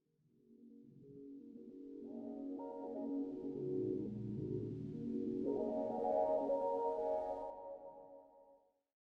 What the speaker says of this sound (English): The first one is this bendy sine pad.